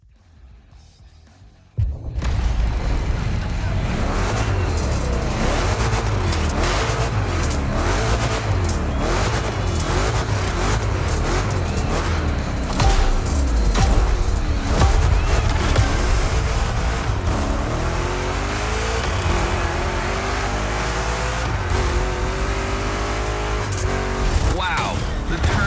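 Two Chevy big-block engines roar continuously in a Gymkhana Grid race in The Crew Motorfest, loud and sustained with revving swells and tire noise, a voice talking over the engines throughout.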